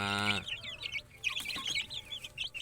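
Chickens clucking close by with busy, overlapping calls, following a brief loud harmonic call at the very start.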